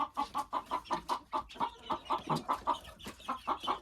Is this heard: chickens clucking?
yes